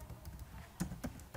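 Typing on a computer keyboard while entering a server configuration command, faint scattered clicks with two clearer key presses near the end.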